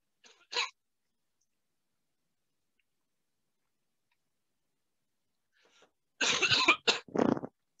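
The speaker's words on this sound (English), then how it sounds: "Apologies for my coughing." One short cough, then a long quiet stretch, followed by a cluster of several harsh, close coughs in quick succession, a lingering COVID cough.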